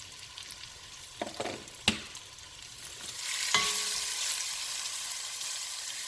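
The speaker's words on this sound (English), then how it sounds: "I want to get good browning on the meat" Pork pieces browning in a pan, a few sharp clatters and pops at first, then a louder, steady sizzle that swells and holds close by, with no talking.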